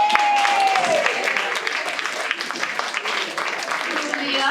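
A crowd at a community meeting claps and cheers in sustained applause, with voices mixed into the clatter of hands.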